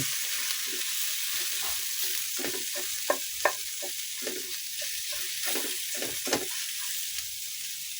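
Mung beans and chicharon sautéing in a pan give a steady close sizzle and frying hiss, broken by a few sharp clinks and scrapes of stirring, with no voices.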